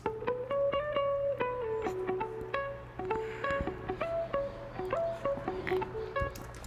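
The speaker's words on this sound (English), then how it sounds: "I'm using the gator effect and sounds like this." Merengueton beat built in Ableton Live, with rhythmic gated stutter chopping from the Glitch plugin's gator effect on a bright plucked melodic line over steady bass, dense and loud with no talking.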